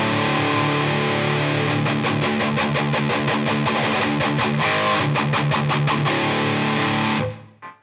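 Distorted electric guitar played through a NUX Trident modelling a Soldano amp, with basic reverb: loud, dense chords and choppy rhythmic strumming, ending abruptly with a short reverb tail.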